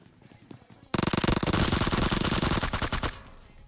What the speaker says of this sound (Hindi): थोड़ी सी गोलियां पेल रहा हूं, गोली खत्म हो जा रही है